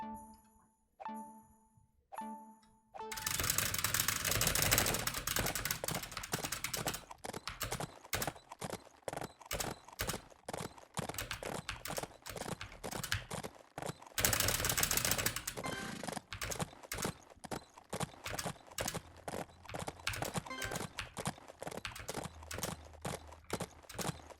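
Galloping hooves from a horse in the mobile game Adventures with Horses beat out a fast, steady clip-clop that runs loud and continuous, with mechanical clicking game effects mixed in.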